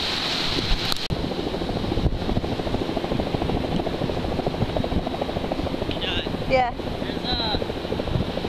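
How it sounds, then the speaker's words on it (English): A helicopter's rhythmic rotor thumping drones steadily throughout above a surf spot, mixed with wind rumble, and a voice briefly speaks over it. "Surfer told Yuki that their helicopter's on the sky waiting to record it"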